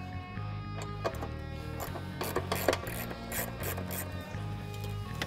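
A ratchet wrench loosens the airbox bolt on a Ford Mustang's inner fender during a Roush supercharger install, producing close, repeated bursts of fast mechanical clicking.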